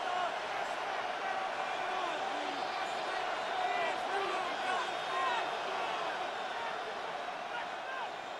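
A stadium crowd at an NFL game, Cleveland Browns against Detroit Lions, roars as a steady dense wall of cheering and babble heard from a distance, with commentary running over it.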